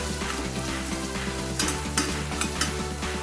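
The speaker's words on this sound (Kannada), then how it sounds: "ಈರುಳ್ಳಿ ಮೀಡಿಯಮ್ ಉರಿ ಇಟ್ಕೊಂಡು ಒಂದು 2 ನಿಮಿಷ ಫ್ರೈ ಮಾಡ್ಕೊಳ್ಳೋಣ" Onions frying over medium heat with ginger-garlic paste and turmeric for a mushroom biryani, with a steady sizzle and scrapes of stirring that grow louder in the second half, along with a low background hum.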